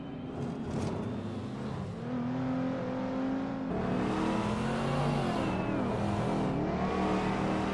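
Race cars, including a 1995 BMW E39, rev hard and surge off the starting line in a racing video game, a loud layered engine roar climbing in pitch with a sharper rising whine at mid-clip, no voices.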